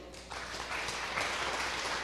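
A church congregation at a Spanish-language Sunday service breaks into steady, dense applause that swells after a brief quieter start and holds evenly, heard from a moderate distance.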